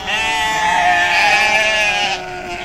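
A sheep on a ranch gives one long, loud, wavering bleat close to the microphone, holding for about two seconds before it breaks off into quieter background.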